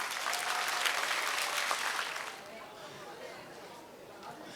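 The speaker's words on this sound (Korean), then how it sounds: "큰 박수 치고 이렇게 마무리하도록 하겠습니다." A concert audience gives a big round of applause, loud dense clapping for about two seconds before fading into softer clapping and crowd chatter.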